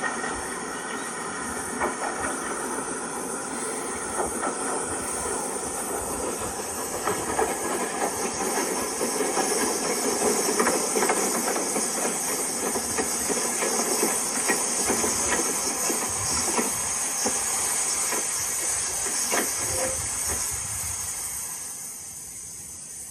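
Small steam railway engine hissing steadily for a long stretch, with clanking and faint metallic squeals of the rolling stock mixed in, fairly close and continuous before easing off at the end.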